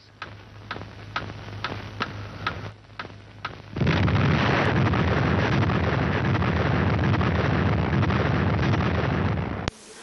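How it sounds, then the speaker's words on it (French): First French atomic bomb test, Gerboise Bleue, in the Algerian desert in 1960: a series of evenly spaced ticks gives way to a sudden, sustained loud roaring rumble from the explosion that continues for several seconds. "la minute solennelle de la première explosion atomique française"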